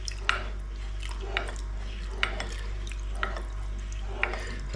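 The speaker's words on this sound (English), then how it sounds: "very gently pour in the milk and stir it" Milk being gently poured into a pot of Venezuelan breakfast soup and stirred, giving soft repeated liquid clinks and sloshes at a steady rhythm over a low kitchen hum.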